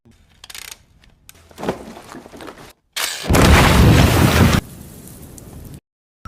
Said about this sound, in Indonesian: Roland akhirnya setuju untuk meledakkan dinding itu sekali lagi.